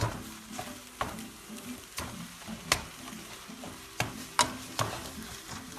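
Breadcrumbs tossed in a hot pan, frying with a steady sizzle broken by repeated sharp scrapes and clacks of the pan or utensil at an irregular rhythm, close and clear.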